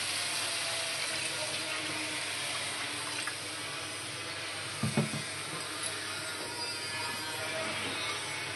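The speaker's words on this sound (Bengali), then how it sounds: "একটু জল দিয়ে দেব" Water poured into a pan for a bhetki fish curry, heard as a faint, steady trickling wash with a brief splash midway, fairly quiet throughout.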